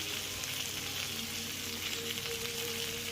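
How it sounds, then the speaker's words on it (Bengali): Onion frying in a pan with tomato, salt, turmeric and chilli powder, a steady dense sizzle that holds evenly at close range throughout, with no voices. "তো পেঁয়াজটা আমার ততক্ষণে ভাজা হতে থাকুক।"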